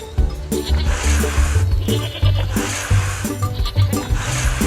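Goats in a mobile animal-care game bleat repeatedly, with loud, close, overlapping cries in a lively stuttering rhythm and no talk over them.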